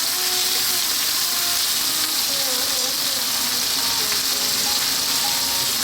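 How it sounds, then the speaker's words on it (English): Fresh ripe tomatoes fry in a pan over high heat for a rajma red kidney bean curry, giving a loud, continuous sizzle and hiss that holds steady throughout. "We're going to add our fresh tomatoes."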